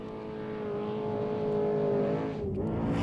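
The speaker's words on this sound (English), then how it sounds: "Kevin Thompson races to 3rd across the line" An off-road race truck at the Vegas to Reno desert race roars past the finish line, with a loud, steady engine drone and a slight pitch drop as it goes by.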